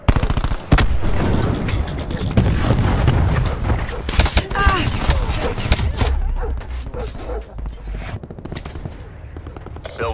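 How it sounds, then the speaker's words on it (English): Cluster grenade explosions and gunfire in Call of Duty: Black Ops 4 on PC, dense loud booms and rattling shots layered together, with voice callouts from the game over the noise. "Throwing cluster grenade."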